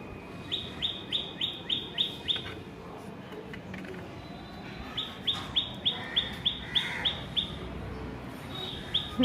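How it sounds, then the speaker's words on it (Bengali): Outdoors, a bird repeats a bright, quick call in rhythmic bursts of several notes, pausing between runs, fairly faint and somewhat distant over a low background hush. "দেখো কেমন ডাকছে পাখিটা এখনো।"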